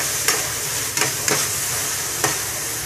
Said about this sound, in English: Saute the tomatoes until it wilts.